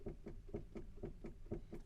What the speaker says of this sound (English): we could hear this knocking coming from the front left